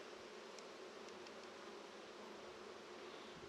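Honeybees at an open hive late in a difficult season make a faint, even, continuous buzz, with a few brief higher clicks near the start and no voices.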